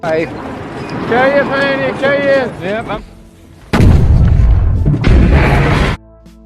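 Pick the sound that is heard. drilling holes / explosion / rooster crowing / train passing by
explosion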